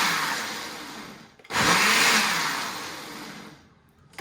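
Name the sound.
blender blending purple rice yogurt drink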